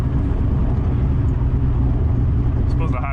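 A Ford Ranger with a 331 engine roars on its exhaust while driving at high RPM, a loud, steady, dense rumble that holds without a break; a voice talks over it.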